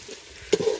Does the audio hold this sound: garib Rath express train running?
no